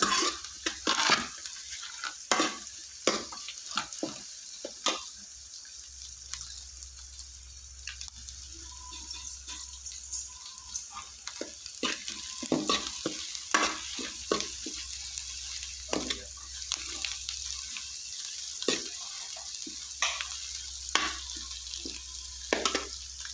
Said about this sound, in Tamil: வெங்காயம் வதங்குது